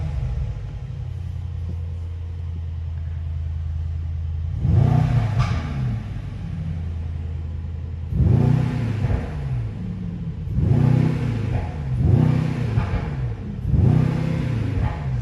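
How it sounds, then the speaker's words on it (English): A 2021 Mercedes-AMG E63 S engine revs in several sharp bursts against a 4000 RPM limiter over a steady low idle rumble, each rise and fall loud and close, with no talking. "So let's just start with the engine."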